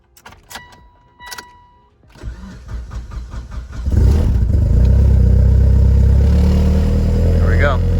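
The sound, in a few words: motor engine starting up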